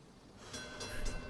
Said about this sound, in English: Of course the train arrives at the purple station now.